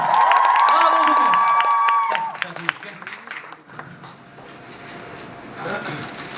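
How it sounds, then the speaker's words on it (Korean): A musical theatre audience at the Mia Famiglia curtain call breaks into cheering and applause after a bright music cue fades, the clapping and shouts building unevenly while voices call out over it. "박수 한번 주세요 여러분."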